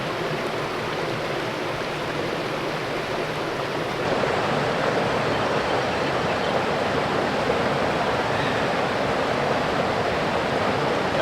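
Rushing high country waterfall at around 1,000 metres altitude in freezing conditions, a steady broadband roar of falling water that holds constant throughout and swells slightly louder partway in, with no voices.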